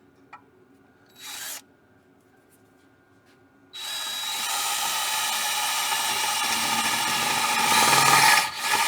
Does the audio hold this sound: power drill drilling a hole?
yes